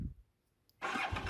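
A Yamaha TRX850 motorcycle with an 850cc parallel-twin engine sits in near silence, then catches and runs loud and steady, close by.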